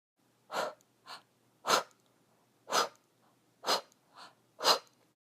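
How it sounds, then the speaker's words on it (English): Seven sharp, forceful nasal exhales in yoga breathing with passive inhales between them. Loud bursts alternate with softer ones, evenly spaced in a steady rhythm against near silence. "we use a very passive inhale and then a forceful exhale"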